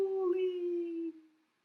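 A single voice imitates dogs howling at the moon, one sustained tonal howl lasting just over a second that falls slightly and fades out. Close and clear, with nothing else around it.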